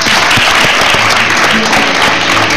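Loud, continuous applause from a studio audience at an Indonesian TV talk show, a dense wash of many hands clapping at once that holds steady throughout.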